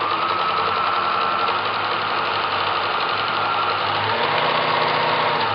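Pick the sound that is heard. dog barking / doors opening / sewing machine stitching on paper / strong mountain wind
sewing machine stitching on paper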